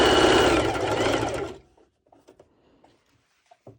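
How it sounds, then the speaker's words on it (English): Sewing machine zigzag stitching a stretchy pole dance top, a loud, steady close-up whir for about a second and a half before stopping abruptly, followed by a few faint clicks and small handling taps. "I wanted to show you another way of doing it by zigzag stitching it."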